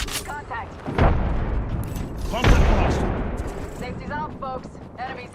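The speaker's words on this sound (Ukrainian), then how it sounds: "Яка ж вбивча ця пушка." Gunfire from a weapon in the video game Apex Legends, two heavy booming shots about a second and a half apart, each trailing into a long rumbling decay, with mechanical clicks and small game effects between them.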